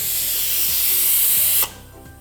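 Loud, steady hiss of steam escaping from a pressure cooker of vegetables in a home kitchen, cutting off abruptly, leaving a quiet tail.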